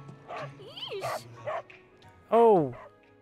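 Small dog in the video game Final Fantasy 7 Remake gives a few short yips and a louder bark-like whimper near the end, with speech-like vocal sounds mixed in.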